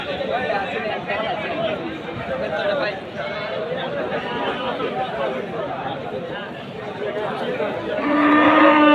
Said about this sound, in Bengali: অনেক গরু।